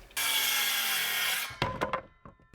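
A power saw slicing through a 2x6 wooden board for wall framing, a loud steady whining cut of over a second, followed by a few clunks as the pieces are handled.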